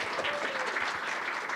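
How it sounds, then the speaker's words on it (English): Steady clapping from a crowd, dense and even throughout, with no voices over it. "If we can give them a round of applause."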